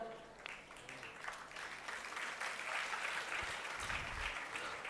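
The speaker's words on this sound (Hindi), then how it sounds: "इसलिए आप ताली बजाते हैं" Audience applause at a Jain religious discourse, dense sustained clapping from a large crowd that grows fuller and louder toward the end, with no speech over it.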